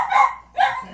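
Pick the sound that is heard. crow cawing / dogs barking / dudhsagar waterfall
dogs barking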